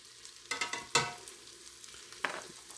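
Flour being stirred and toasted in a chicken stew pot gives a faint sizzle, with a few sharp scraping clatters of the spoon against the pot, quiet and close.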